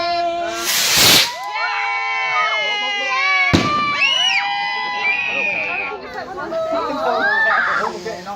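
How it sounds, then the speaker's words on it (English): Firecrackers and fireworks going off outdoors on Bonfire Night, with two sharp broadband bangs and crackles under constant excited chatter, shouts and screams from a nearby crowd. "It's a firecracker."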